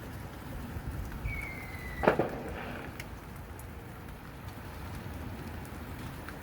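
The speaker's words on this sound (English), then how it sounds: "Oh, so boring with rain." Steady, faint rain falls in a UK residential setting, a soft continuous wash with one brief louder clatter or passing sound near the middle.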